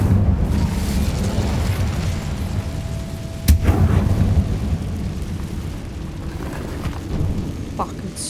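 An Incendio fire spell is cast in Hogwarts Legacy: a sharp burst of flame cracks out midway and hangs above a steady, rumbling roar of game ambience.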